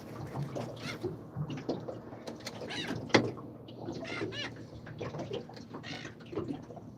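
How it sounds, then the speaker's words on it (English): Seagulls around an angler fishing on the Tamar river squawk and call in short, repeated bursts over low background noise, some calls close and some farther off. "Got the seagulls happening, which is good."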